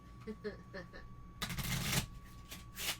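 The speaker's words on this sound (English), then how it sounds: "So let me give these a quick shuffle." A deck of game cards is shuffled during a board game session: a quick riffle burst of crisp, dense flutter followed by a shorter second riffle, with talking before it.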